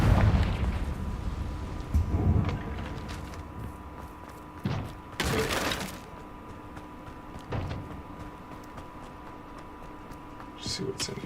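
A Confringo blasting spell explodes in Hogwarts Legacy, a single sharp, loud burst around the middle set against low rumbling and a few softer thumps scattered through the rest of the scene.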